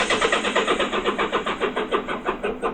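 A 35-year-old Honda Goldwing motorcycle engine cranks without catching, its starter churning in a fast, even, repeating rhythm, loud and close throughout.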